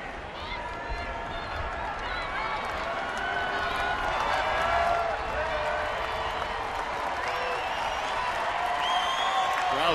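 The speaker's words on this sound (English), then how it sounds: "Crowd's starting to get into it a little bit too." Ballpark crowd at a Detroit Tigers home game against the White Sox on Easter Sunday, with a broad steady roar and scattered applause building slightly over time beneath continuous play-by-play commentary.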